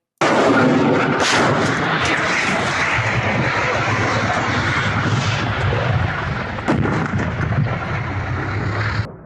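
Explosions and air defense fire in Belgorod near the airport, a loud, continuous rumbling barrage with repeated booms and a sharp blast late on.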